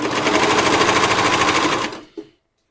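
Cover stitch sewing machine hemming elastic on underwear fabric, a loud continuous rapid stitching run that stops abruptly, followed by a brief clack and then silence.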